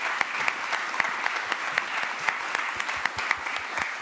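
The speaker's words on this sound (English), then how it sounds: "Give her an applause, please" Moderate applause from a conference audience welcoming a guest on stage, a steady patter of clapping with several distinct sharp claps close by, fairly even and continuing without talk.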